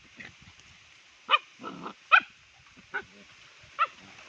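A small dog barks close by in a handful of short, sharp yaps spread across a few seconds, with quieter rustling between them.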